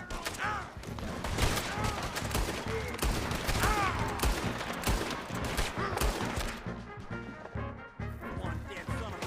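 Gunfire in the Red Dead Redemption 2 video game: a dense, loud fusillade of rapid shots cracking continuously, with voices talking over the shooting.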